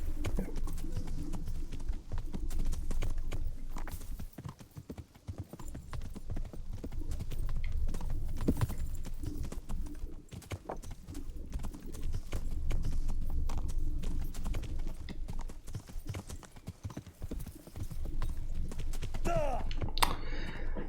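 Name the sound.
horse hooves in video game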